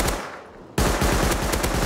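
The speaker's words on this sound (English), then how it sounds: "Are you shooting the Thompson?" A Thompson submachine gun fires in the survival game Rust: a brief pause, then a rapid, loud burst of evenly spaced shots close by.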